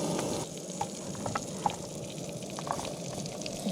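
Onions and mushrooms sizzle in a pan on a camp stove beside an awning, giving a steady, soft frying hiss dotted with small pops and crackles.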